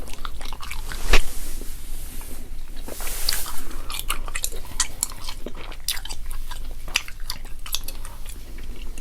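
Close, wet gum chewing with steady rhythmic smacks and squishes, a couple of sharper clicks standing out, no talking.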